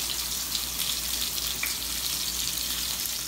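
Salmon fillets frying crispy in a pan, a steady bright sizzle and hiss held close and even throughout, without speech.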